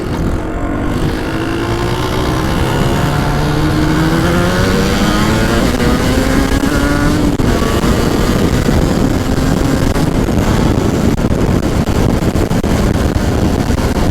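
A 1985 Yamaha TZR 250 two-stroke motorcycle with a worn gearbox revs up and pulls away, its pitch climbing steadily through the gears, loud and close with a rough buzzing tone and wind rush.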